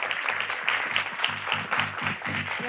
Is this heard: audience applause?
yes